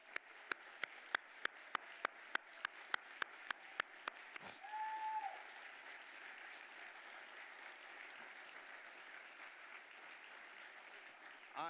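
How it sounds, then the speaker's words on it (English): Audience applause at a gala dinner honoring PepsiCo, opening with a run of evenly spaced single claps before swelling into a softer, sustained crowd clapping that continues to the end. "you deserve to get a round of applause"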